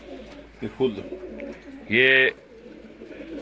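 Jugnu breed pigeon, a prize-winning bird, giving a loud, close, throaty coo with a trembling rising pulse, amid softer bird calls and someone speaking briefly.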